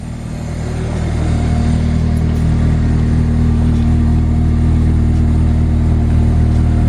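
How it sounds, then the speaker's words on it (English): A car fitted with an upgraded Honda D17 engine idles while warming up, a steady, loud, even hum with a low drone that swells slightly in the first second, then holds constant with no speech. "just letting it idle and warm up right now"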